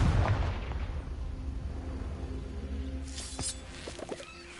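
A Confringo blasting spell goes off in Hogwarts Legacy, a loud booming explosion at the start that fades into a rumbling tail, followed by faint crackling magic effects.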